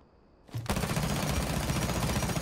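Rapid automatic gunfire from a rifle with an extended barrel and vertical grip in Rainbow Six, a sustained loud burst of fast shots that starts abruptly after a brief quiet moment.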